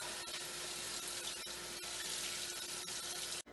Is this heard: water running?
yes